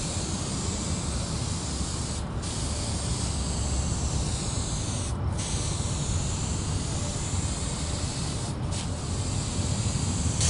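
Spray adhesive hissing from a can onto a Jeep Cherokee headliner, a steady close spray broken by three short pauses between passes.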